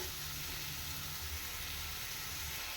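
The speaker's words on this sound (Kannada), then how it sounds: "ಹೀಗೆ ಎಣ್ಣೆಗೆ ಫ್ರೈ ಮಾಡ್ಕೊಂಡಿದ್ದೀನಿ. ಚೆನ್ನಾಗಿ ಫ್ರೈ ಆಗಬೇಕಿದು." Ridge gourd pieces frying in oil in a pan, a steady, even hiss of sizzling with a soft low rumble underneath, holding constant at moderate level with no voices.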